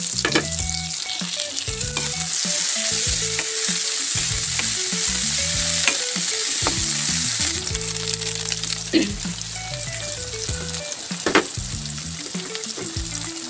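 Onion and tomato fry loudly in a pan with a steady close sizzle, broken by frequent scraping stirs and a few sharp crackles.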